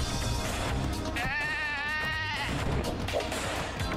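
Sheep bleating in the video game Moving Out, a wavering cartoonish bleat rising clearly in the middle over a steady bed of game music and background sounds.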